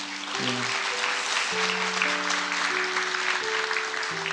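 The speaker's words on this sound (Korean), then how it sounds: "격려 박수 한번 부탁하겠습니다." A church congregation at a Sunday worship service claps steadily in encouragement for missionaries, the applause filling the room for several seconds while sustained keyboard notes play along underneath.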